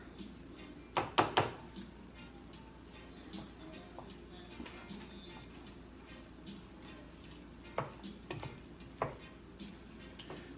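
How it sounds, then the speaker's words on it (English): Mayonnaise is stirred in a large pot for a homemade potato salad. The scraping and sloshing strokes are soft and close, with a few sharper clinks of the utensil against the pot, and a voice speaks quietly in the background. "So put the mayo in there. And we're going to stir and stir."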